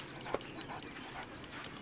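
A Chesapeake Bay retriever in the Red Dead Online video game gives faint, brief whimpers buried under steady game ambience.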